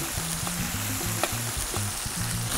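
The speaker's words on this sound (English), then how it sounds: "So let it simmer for a while." Tomato sauce and stock for a sausage and seafood paella simmer in a pan with a steady, close sizzling bubble that continues evenly throughout, with a faint spoon stir and no talking.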